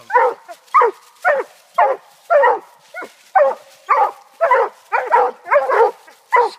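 A dog gives a run of about a dozen short, closely spaced whimpering yelps and barks, loud and near, with no one talking over them.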